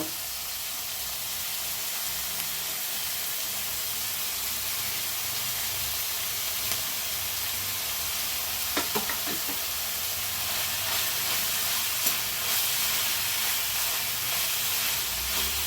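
Shredded cabbage fries in a pan for vegetable fried rice, a constant broad hiss and sizzle throughout with a few faint clinks of a spatula and no voices.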